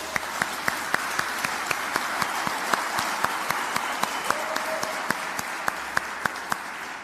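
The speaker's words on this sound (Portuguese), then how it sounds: "Dá uma salva de palmas para eles." A crowd applauds steadily, many hands clapping in a dense, sustained wash with a few sharper claps standing out.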